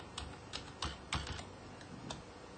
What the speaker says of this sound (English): then I type in my password